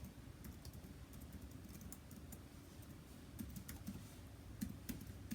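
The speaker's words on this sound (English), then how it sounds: "Type in your email address." Rapid, uneven keystrokes on a computer keyboard while an email address is typed, quiet and close with no talk, the clicks growing slightly busier toward the end.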